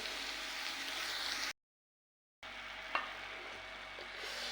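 Chopped safflower greens are stirred into a hot pan, giving a soft, steady sizzle with a scraping spatula stroke near the end, broken by a brief silent gap.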